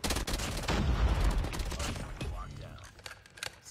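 Rapid bursts from a burst-fire gun in COD Mobile crack sharply and close, repeating in tight clusters for a few seconds before tapering into quieter game noise.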